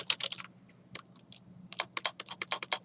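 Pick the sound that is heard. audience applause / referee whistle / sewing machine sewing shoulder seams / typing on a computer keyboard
typing on a computer keyboard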